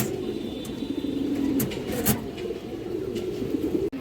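Pigeons, a pair of large green-necked birds, coo in soft low rolling calls close by, with a few sharp clicks and rustles and a faint hum behind, no talking.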